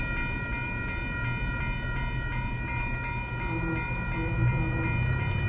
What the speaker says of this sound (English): And the train is going.